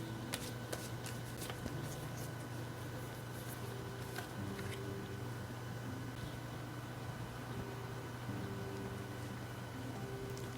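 Oracle keyword cards are shuffled by hand, with a soft continuous riffling and flicking close up and faint, quiet, over a low background hum.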